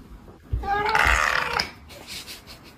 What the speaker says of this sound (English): Why does this cat sound like a wet fart?